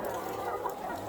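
Day-old chicks packed in a poultry house on a Kenyan farm, a dense continuous wash of soft peeping and cheeping from many birds, steady and close, with no distinct single calls standing out.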